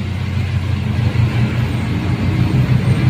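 Steady, loud rumble of busy road traffic with cars and motorcycles on a rainy Saturday afternoon, engines droning continuously close by with no clear pauses.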